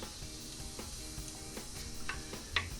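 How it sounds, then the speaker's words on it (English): Shallots and red onions sautéing in a pan, a soft continuous sizzle with light ticking crackles and a small clink near the end, quiet and close. "we're just gonna saute these for a while until they kind of start to become a little bit translucent"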